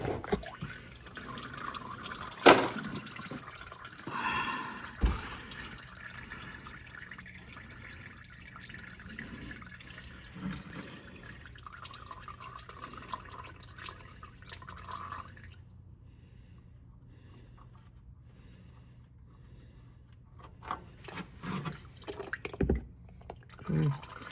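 Engine oil drains from a 2025 Toyota Camry, a faint trickle and soft drips running quietly with a few small clunks and knocks.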